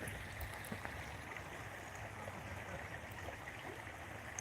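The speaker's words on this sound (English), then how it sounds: "Let's sit here and do the ASMR thing with the creek." A creek flowing steadily outdoors, a soft continuous wash and trickle of water at low level with faint background ambience.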